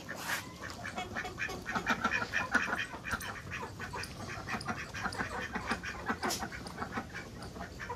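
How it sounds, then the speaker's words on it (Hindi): Mallard ducks quack repeatedly in a busy, overlapping chorus of nasal calls, fairly close and moderately loud throughout, with no talking over them. "मलार्ड नाम है इनका ना डक्स का, मतलब नस्ल है"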